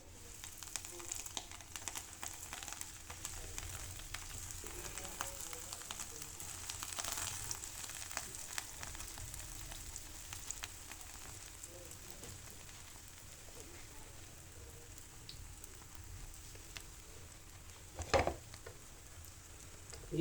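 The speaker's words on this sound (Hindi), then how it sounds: "तो ऑयल हमारा गर्म हो चुका है। हम इसको हमने जो मीडियम फ्लेम पे ही, मीडियम से थोड़ा सा कम होना चाहिए, उस पर ही हम फ्राई करें" Bread slices for shahi tukra fry in hot oil over a medium-low flame, giving a soft, steady sizzle and crackle throughout, with a brief louder clatter near the end.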